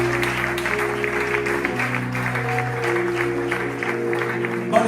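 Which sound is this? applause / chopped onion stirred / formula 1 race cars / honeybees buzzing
applause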